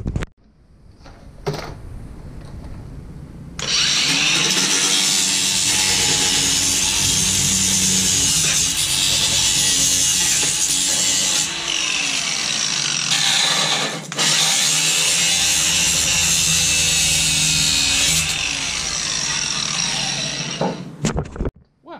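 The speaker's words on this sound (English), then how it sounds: "I finally found something that cordless grinder is good at. grinding plastic." A cordless grinder bites into plastic during work on a Ford F-350 7.3 IDI truck build: after a few knocks it runs as a loud, continuous harsh whine for about fifteen seconds, briefly dips once, then spins down.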